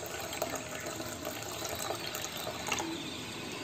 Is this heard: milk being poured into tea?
yes